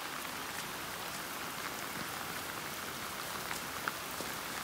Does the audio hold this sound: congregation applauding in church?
no